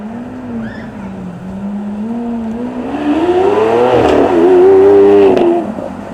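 A Lamborghini V12 supercar pulls away hard on a track at a supercar weekend, its engine note climbing steadily in pitch and growing louder through a long, continuous rev before easing off near the end.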